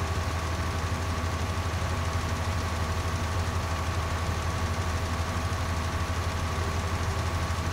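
Farming Simulator 19 tractors and farm machinery drone in a steady, continuous low engine hum with a faint knocking texture, unchanging throughout and with no talk.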